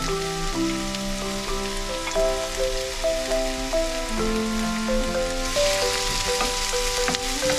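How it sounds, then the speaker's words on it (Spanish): Vegetables, including onion, tomato and chile, fry in a pot with a little oil, a steady, moderate sizzle running beneath prominent melodic background music. "En una cazuela van a poner poquito aceite. Y yo ya tengo la verdura lista, la vamos a freír."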